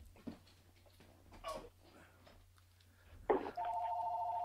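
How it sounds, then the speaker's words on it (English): A landline telephone rings with a steady electronic ringing tone that starts abruptly near the end and continues, following faint talk and room noise in a radio studio. "The phone never rings until I put this microphone on."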